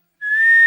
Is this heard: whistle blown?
yes